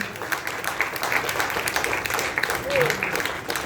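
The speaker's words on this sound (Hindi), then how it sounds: "एक बार जोरदार तालियां।" An audience at a foundation day celebration gives a short burst of clapping that is moderately loud and sits under a voice speaking over it.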